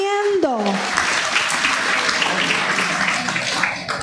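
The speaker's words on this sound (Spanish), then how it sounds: "¿Fuerte el aplauso?" Audience applause at a national forum on cooperatives in the creative industries, a dense burst of clapping that swells right after a short tone and holds steadily, filling the room.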